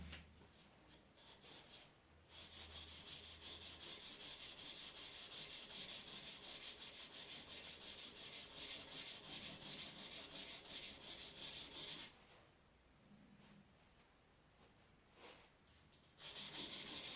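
A blade is rubbed flat back and forth on a sharpening surface to take off the burr, making a faint, continuous gritty scraping that runs steadily for about ten seconds, pauses briefly, then resumes.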